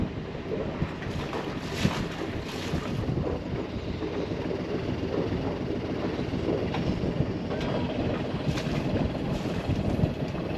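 A sailboat's motor runs in gear as the boat leaves a mooring ball in Jolly Harbour, Antigua, giving a steady, loud, continuous rumble mixed with heavy wind buffeting the microphone.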